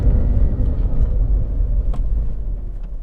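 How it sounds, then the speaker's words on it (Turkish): Small Smart Fortwo city car pulling uphill in first gear on a rough road, its engine giving a steady, loud low rumble throughout with no voices. "motorun çekişi şu an olduğu gibi bakın gaza basıyorum ama biraz yetersiz kalabiliyor"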